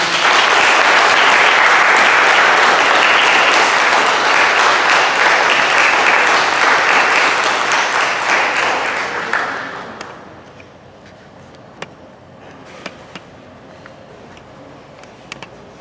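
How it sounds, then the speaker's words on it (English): At a Newburgh school board meeting, an audience applauds honor ensemble students with loud, dense clapping for about nine seconds, then it fades quickly to a quiet room with a few scattered claps and clicks. "Let's give them a big round of applause."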